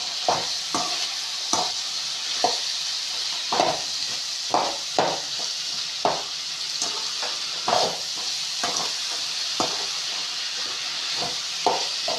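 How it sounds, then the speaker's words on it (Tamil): Green beans fry in hot oil with turmeric and salt while a spoon stirs them, giving a steady sizzle broken by regular scraping strokes against the pan, close up, with no voices. "மொத்தமாக நல்லா கிண்டி விட்டுக்கோங்க"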